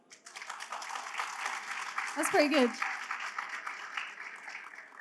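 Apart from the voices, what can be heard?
audience round of applause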